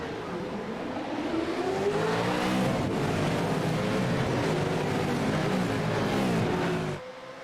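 V8 race cars in the iRacing game's V8 America Series revving and accelerating together at a race start at Barcelona, a loud sustained multi-engine roar with rising pitch that cuts off abruptly near the end.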